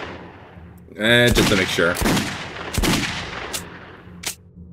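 Gunshots ring out in Poppy Playtime Chapter 3, with a cluster of sharp, loud cracks followed by a few scattered shots, while a person speaks over them.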